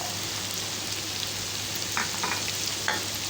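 Capsicum and masala fry in a pan for a pasta sauce, giving a loud continuous close-up sizzle with a few scraping taps of a spoon stirring near the end.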